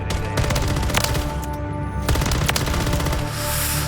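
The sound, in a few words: gunfire from Modern Warfare 3 video game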